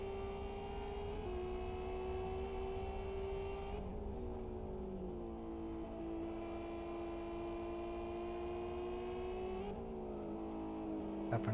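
Touring race cars in a SUPERstock Touring Championship racing game hold steady engine drone with whining harmonic tones that shift pitch through gear changes and corners, quiet and continuous, with no voices.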